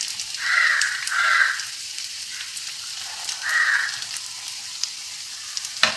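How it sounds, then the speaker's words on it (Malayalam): Kerala-style aval sukhiyan sweets fry in a pan of oil, giving a soft, steady sizzle with louder hissing surges as the pieces are turned, close and with no talk. "നമുക്കിത് നന്നായിട്ടൊന്ന് ഫ്രൈ ആക്കിയെടുക്കാം"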